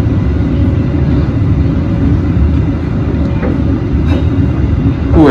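Loud, continuous low rumble inside a moving Malabar business class passenger train carriage, steady wheel and track noise with a couple of faint squeaks and a rising whine near the end.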